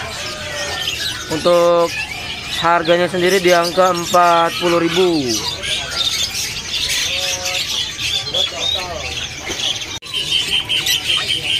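White-vented myna at a bird-selling kiosk giving a run of loud, harmonic calls and rising whistles in the first half, with people talking over and around them.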